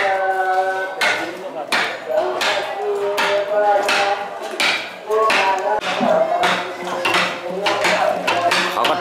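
Repeated heavy thumps of clay being pounded down into a bamboo rocket, irregular but steady, with voices talking over the tamping, in Kengtung, Myanmar.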